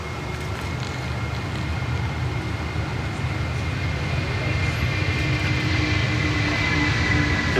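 A Malaysia Airlines jet at Sydney Airport gives off a steady, broad engine roar at a distance, building a little over several seconds.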